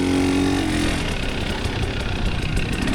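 A KTM 300 XCW dirt bike rolling along during a hare scramble race, its engine giving a close, steady mid-pitched drone with a brief tonal hum at first, then rougher continuous noise.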